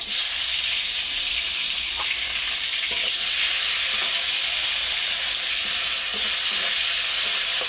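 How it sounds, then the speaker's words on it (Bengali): Steady, loud sizzling of spices with bay leaves, a dried red chilli and chopped tomato frying in hot oil, with occasional stirring clinks, continuous throughout and no talking. "মশলাটা আমার ভালো করে ভাজা ভাজা হয়ে গেছে"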